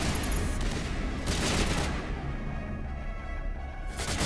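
Dense, sustained bursts of gunfire from a 2007 space RPG video game fill the clip, loud and continuous with no voice over them.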